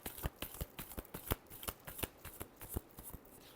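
Tarot cards are shuffled in quick, crisp riffling bursts, close and fairly quiet, with a steady rhythm and no talk.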